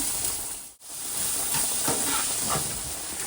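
Onions and green chillies frying in a pan for a soya manchurian curry, a continuous hissing sizzle that drops briefly near the start, then resumes with soft stirring scrapes.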